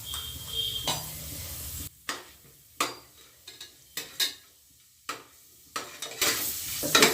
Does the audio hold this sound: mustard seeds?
yes